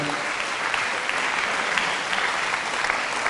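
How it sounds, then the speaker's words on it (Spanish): A congregation at a Catholic sermon on conversion and faith claps in steady, dense applause that continues evenly throughout, fairly close and with no speech over it. "Pues este aplauso a Jesús de Nazaret."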